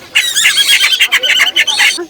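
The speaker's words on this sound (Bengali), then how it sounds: "টিয়া পাখি বাচ্চা" A young parrot at the busy Mirpur 1 bird market squawks in rapid, harsh, piercing bursts. The calls are close and loud in a steady run, with rain falling at the market.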